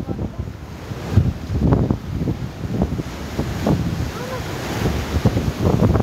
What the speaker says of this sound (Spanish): Porque sí está un poco fuertecito el viento.